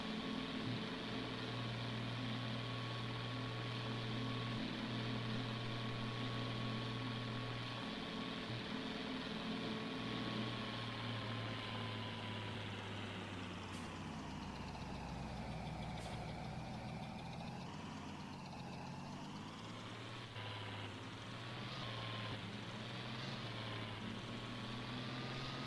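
A small, fairly fast tractor in Farming Simulator 22 drives along with a steady droning engine, its pitch sagging and rising midway as it changes speed, loud and continuous with no talk.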